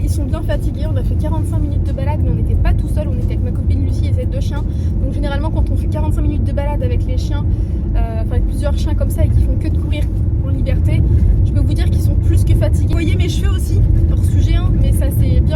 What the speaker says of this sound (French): désolée pour le bruit de la voiture, je sais que c'est chiant